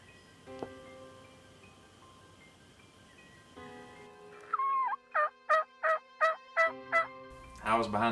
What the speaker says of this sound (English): hear like 2 or 3 different gobblers off in the distance